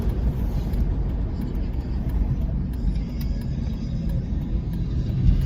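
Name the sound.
heavy road traffic heard from a car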